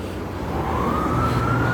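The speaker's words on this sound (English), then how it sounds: "when you hear the ambulance" An ambulance siren rises in a long, steady sweep, moderately loud over a constant low rumble of noise, with no voices.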